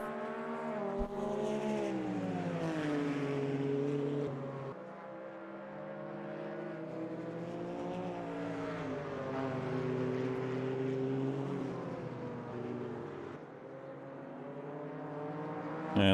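Race cars at Suzuka in a GT1 racing video game scream along with a sustained, loud engine drone, the pitch rising and falling through gear shifts and corners, with no talk over it.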